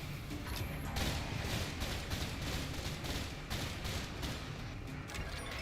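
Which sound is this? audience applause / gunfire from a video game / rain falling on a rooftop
gunfire from a video game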